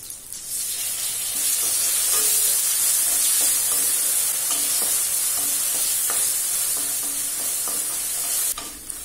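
Tomatoes sauté in a hot pan with a steady, loud sizzle and occasional stirring clinks. No one speaks.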